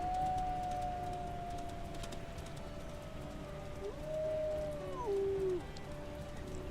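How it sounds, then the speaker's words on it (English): A wolf howls in the WolfQuest video game, a long drawn tone that slowly falls and then rises again in a couple of wavering calls, heard at a distance over a steady wash of rain-like ambient noise. "Who's that howling?"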